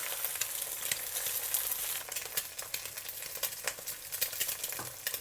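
Eggs frying in oil over medium heat in a pan for a Chinese egg rice dish, giving a close, steady crackling sizzle with sharp little pops throughout and no voices.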